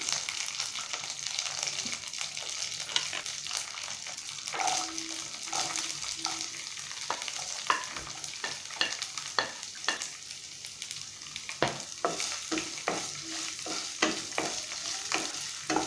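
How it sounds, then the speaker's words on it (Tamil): Large onion and curry leaves sauté in a hot pan for a cauliflower pepper fry, with a constant sizzle, frequent spatula scrapes and clicks against the pan, close and with no talking. "ஆனியன் நல்லா வதக்கி விட்டுக்கலாம்."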